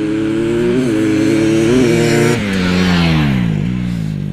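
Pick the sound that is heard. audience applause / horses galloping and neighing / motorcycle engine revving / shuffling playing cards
motorcycle engine revving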